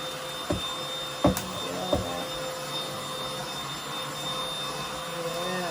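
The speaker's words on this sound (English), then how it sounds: "I like this vacuum." A vacuum cleaner runs steadily with a continuous whining drone, punctuated by a few brief knocks and clunks early on.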